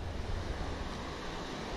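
Ocean surf rolling onto a beach where a rip current is pouring out, a steady broadband wash of waves with wind buffeting the microphone, continuous and fairly loud throughout.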